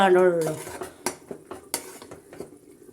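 A metal spoon stirs coconut rice in a pot, with repeated clinks and scrapes against the sides at an uneven rhythm, close and clear.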